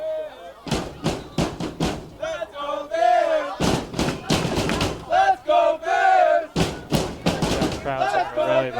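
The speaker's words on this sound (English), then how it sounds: "Crowds are really behind BSU now." Crowd cheering and shouting in support of BSU at a women's soccer game against Brandeis, loud bursts of voices with sharp claps and thumps, mixed with talk throughout.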